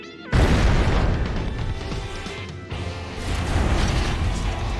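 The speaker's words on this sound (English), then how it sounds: "What I hate is the fact they explode" Missiles exploding in Armored Core 6, a sudden loud boom bursting in after a quiet moment, with rumbling blasts and debris continuing, then a second swell of explosions near the end.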